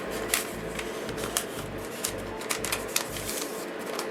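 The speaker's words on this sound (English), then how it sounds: "And then I'm going to fold it again." Paper being folded in half, then folded again, to form a pocket for a vintage Valentine craft: a series of close, crisp crinkles and soft creasing rustles with a few sharper snaps, no talking.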